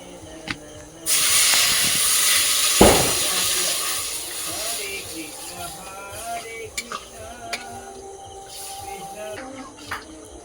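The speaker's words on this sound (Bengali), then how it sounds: "মাংসটা ভালো করে কষিয়ে নেওয়া হয়ে গেছে দিয়ে এবার আমি একটু জল দিয়ে দেবো" Water poured into a pan of browned meat in a village kitchen sets off a sudden loud sizzling hiss that slowly settles into a steady bubbling steam, while people talk nearby.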